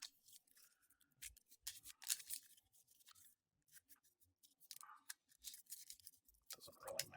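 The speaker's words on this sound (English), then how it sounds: "so shuffle these up" Playing cards are shuffled during a tabletop card game session, giving quiet, scattered papery riffles and snaps in short bursts with pauses between them.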